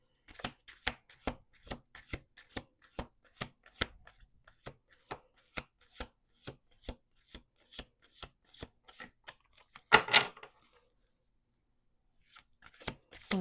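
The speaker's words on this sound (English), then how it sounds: "Let's do two more shuffles." A deck of playing cards shuffled during a tarot-style card reading, a steady run of crisp riffling flicks and taps repeating close to the microphone, with a brief louder burst of riffle near the end and no talking.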